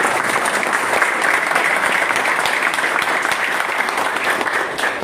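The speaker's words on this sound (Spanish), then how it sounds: "Yo creo que nosotros merecemos darle un aplauso" Steady, dense audience applause fills the room at a swearing-in ceremony for a new party leadership in Sabaneta, continuous and fairly loud throughout with no pause.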